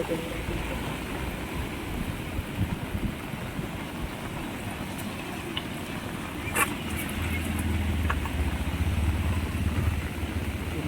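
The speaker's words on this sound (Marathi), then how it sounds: "आपटते बघा कसं पाणी" Floodwater during a cloudburst flood rushing against a village bridge, a steady, moderately loud broadband wash with a deeper rumble building toward the end, and a few faint distant clicks.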